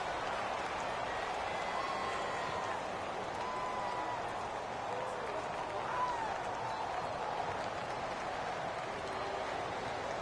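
Stadium crowd noise from a PS4 football video game, Saints versus Falcons, a steady broad roar with faint cheering swells running throughout at moderate level, no talk over it.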